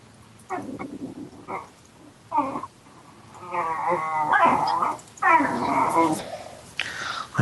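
A dog whimpers and makes excited play-fighting noises, with short whines followed by longer warbling, growly vocal bursts, close and fairly loud.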